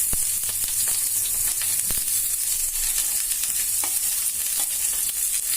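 Onion, four green chillies and chopped coconut fry in a pan, giving a steady close sizzle with light scraping stirs and small pops throughout.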